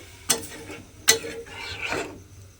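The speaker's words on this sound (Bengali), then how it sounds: "এবারে খুব ভালোভাবে এটা মিশিয়ে নিতে হবে" A spoon stirring a spice mix with water in a pan while cooking squash: two sharp scraping strokes followed by a softer wet swirl, close and without talk.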